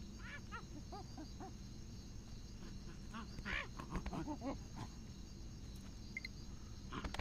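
Monkeys in the video game Sims 2 Castaway chatter in quick, chirpy calls over a low jungle ambience, fairly quiet, with bursts clustering in the middle.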